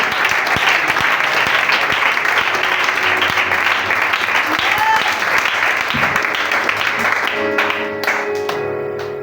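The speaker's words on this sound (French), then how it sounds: "Acclame ce Jésus qui est merveilleux" A church congregation at a youth seminar applauds in a dense, sustained wave of clapping with voices mixed in, tapering off toward the end.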